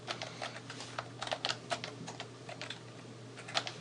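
Fingers type a Linux terminal command on a computer keyboard, a quick uneven run of close, light key clicks over a faint steady hum with no voices.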